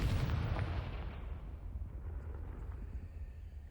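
Confringo fire spell blast in the Hogwarts Legacy video game, a loud booming burst that rolls into a dense rumbling roar and slowly settles over a few seconds, with no talk.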